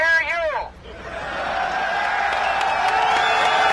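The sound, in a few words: crowd cheering at a speaker's megaphone speech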